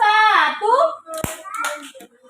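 Young children at a special-needs preschool clap once together, a single sharp hand clap between stretches of an adult and children speaking.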